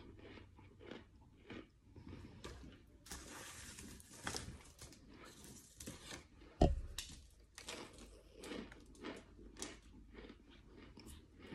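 Someone bites and chews crunchy microwaved chunks of food, with soft irregular crunches and squishy chews spread across the stretch, close to the mic and quiet, with one sharper crack partway through.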